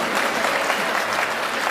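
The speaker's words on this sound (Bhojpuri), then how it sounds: "एक बार और बजा दीजिए ताली मेरे" An audience applauding a singer at a Dainik Jagran festival concert in Patna, a steady, loud wash of many hands clapping throughout the short stretch with no voices.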